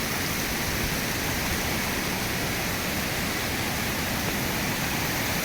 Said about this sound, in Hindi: यहाँ झरनों से जो पानी आ रहा है